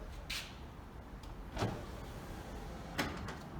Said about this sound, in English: So you heard the click right there.